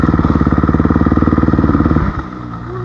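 A motorcycle engine idles close by with a fast, steady, loud pulsing rhythm, then the note drops and shifts abruptly near the end as the engine changes pitch.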